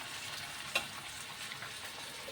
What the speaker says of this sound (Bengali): ভালো করে মশলাগুলো ভাজা ভাজা হবে